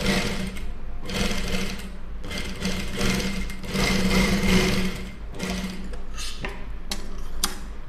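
A sewing machine stitches a fancy neck design, running in loud, steady bursts of rapid mechanical chatter with brief pauses between runs as the fabric is guided by hand.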